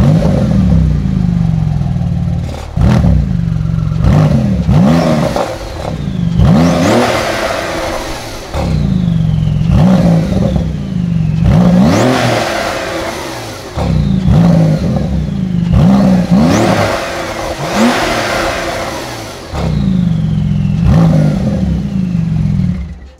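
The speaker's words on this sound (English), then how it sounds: "You can really hear the turbo spooling on this." Porsche GT2 RS twin-turbo flat-six revved hard in about four loud, close bursts. Each rising wail falls back to a rumbling idle, with turbo whoosh and spool noise over the top.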